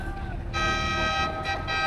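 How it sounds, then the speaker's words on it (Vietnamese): A tour boat horn in Ha Long Bay sounds a sustained, steady tone lasting over a second, with a short break near the end, heard over wind and engine rumble. "tiếng còi tàu."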